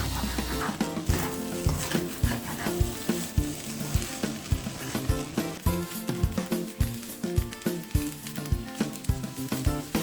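Crabmeat fried rice with eggs stir-fried in a hot pan, a loud continuous sizzle broken by a steady rhythm of scraping, clattering spatula strokes throughout.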